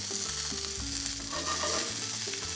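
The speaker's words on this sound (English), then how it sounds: "whenever I sear mushrooms, I like to just put them in an even layer and then just let them hang out" Mushrooms sear in an even layer in a hot skillet, giving a steady bright sizzle and crackle at close range without pause.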